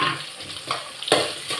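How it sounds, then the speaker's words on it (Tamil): Onion and garlic sautéing in hot oil for a lunch dish, a steady close sizzle with stirring scrapes and a sharper spatter burst partway through, no voices. "வெங்காயத்தை போட்டு வதக்கிடலாம். வெங்காயமும் பூண்டு வதங்கிட்டோம்."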